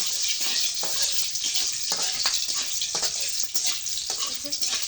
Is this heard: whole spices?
yes